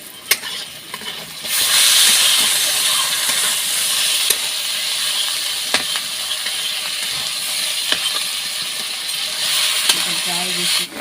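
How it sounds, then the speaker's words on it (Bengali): Potatoes and onions sizzling loudly in hot oil with crushed ginger-garlic added for a chicken liver fry, a steady hiss broken by sharp clinks of a utensil against the pan. "আলু আর পেঁয়াজটা একসাথে ভেজে নিচ্ছি, তারপরে এক এক করে সব মশলাগুলো দিয়ে দেবো"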